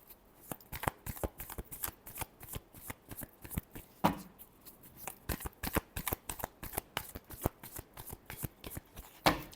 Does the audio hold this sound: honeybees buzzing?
no